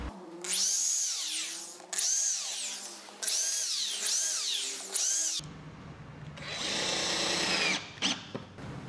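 A power drill drives screws into an MDF table, close and loud. There are several whining runs that rise in pitch, each a second or two long, and a heavier grinding burst near the end.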